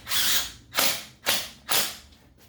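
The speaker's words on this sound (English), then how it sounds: "I'm going to tighten one of the bolts on the bottom" A power tool tightens a bottom bolt on a Yamaha YZ250 KYB motocross fork, four short, close whirring ratchet bursts in quick succession with brief gaps between them.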